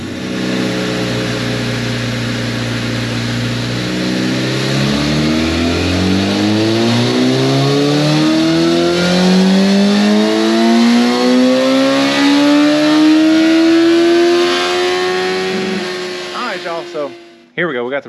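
A 2011 Yamaha FZ8 motorcycle engine on a dyno climbs steadily from low revs to a loud high-pitched wail over about fifteen seconds, then drops off sharply with a few brief blips at the end.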